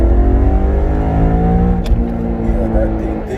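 A BMW E92 M3 fitted with a KW HAS suspension kit accelerates hard, its engine roaring loud and steady from inside the cabin with a rising drone, while people talk excitedly over it.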